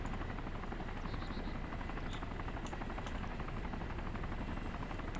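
An armed helicopter in the video game DayZ OverPoch, its rotor thudding in a rapid, steady chop that stays constant and fairly close throughout, with faint clicks on top and no talk.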